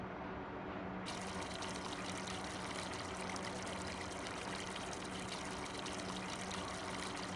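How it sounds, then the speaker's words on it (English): Milk pours steadily into a butter churn in Farming Simulator 25, a continuous loud gushing liquid stream that runs unbroken the whole time with no talk. "Pour milk in."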